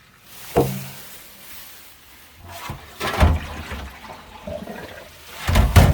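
Flushed water rushes and splashes through a leaking cast iron drain pipe, with sloshing surges, gurgles and a few knocks building toward a loud gush near the end, heard close up.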